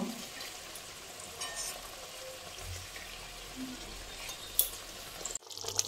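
Water splashes into a pan of fried bata fish and spices, a steady hissing simmer with light bubbling and a few clinks near the end, close and fairly quiet with no talking.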